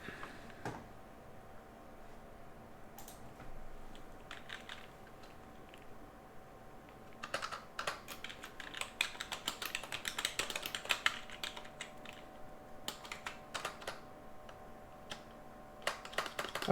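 A computer keyboard clatters with quick bursts of typing, sparse taps at first and then a dense, rapid run of keystrokes, close and fairly quiet over a faint steady hum.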